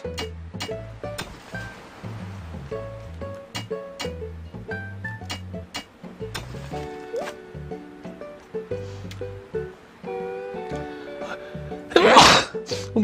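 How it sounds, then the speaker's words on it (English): A single sharp, loud sneeze from a person bursts out near the end, over game music with plucky melodic notes playing steadily throughout. "Excuse me guys, I just sneezed"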